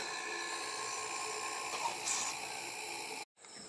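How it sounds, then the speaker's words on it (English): A compressor in an off-grid MagGrav power generation setup hums steadily with a dense, even whine, holding constant for about three seconds before cutting off abruptly, then a quieter restart. "Now then they turn the other compressor on."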